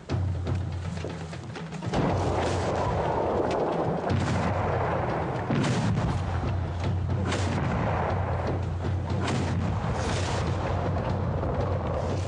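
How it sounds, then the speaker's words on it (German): Cannon artillery bombards Vienna: repeated heavy booms, roughly every couple of seconds, thunder over a continuous low rumble of battle, with no talk. "mit kleineren Geschützen wird Wien nun unter Beschuss genommen"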